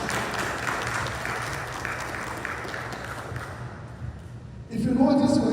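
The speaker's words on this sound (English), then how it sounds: "Let us give them a big round of applause." An audience gives a round of applause for job-training participants on a live radio broadcast, a broad continuous clapping that thins out before a voice comes in at the end.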